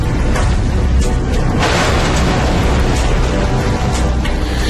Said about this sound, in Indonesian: pesawat marinir ini pun langsung jatuh menghantam landasan dan meledak seketika